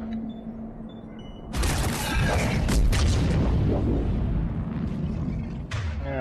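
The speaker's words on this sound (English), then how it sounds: "here comes a grenade" A grenade detonates in the Mass Effect 3 video game: an abrupt, loud broadband blast strikes after a quieter stretch, followed by several seconds of rumbling debris and crackle, with a second sharp hit near the end.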